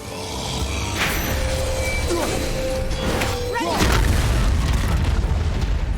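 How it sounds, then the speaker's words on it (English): A loud explosion in the PC game God of War, with a deep rumble that swells near the end over continuous game sound effects and a rising, sweeping tone. "Man, that's a loud explosion."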